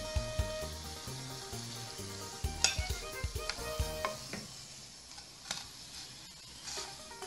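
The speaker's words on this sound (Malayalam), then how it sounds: "അതേപോലെ ബാക്കിയും കൂടെ നമുക്ക് ഫ്രൈ ചെയ്തെടുക്കാം." Chicken cutlets fry in hot oil in a home kitchen, with a steady sizzle and crackle throughout. Scattered clinks and scraping from a spoon or slotted ladle break through, and no one speaks.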